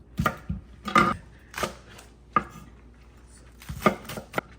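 A knife chops scallions on a cutting board in a home kitchen, several irregular crisp thuds in quick bursts with pauses between, close and clear, with no talking.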